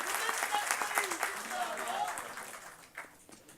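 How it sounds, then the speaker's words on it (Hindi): An audience claps loudly to welcome Gadkari at a national executive meeting, dense steady applause filling the room and slowly thinning toward the end. "एक बार माननीय गडकरी जी का जोरदार ताली बजाकर हम सब स्वागत करेंगे"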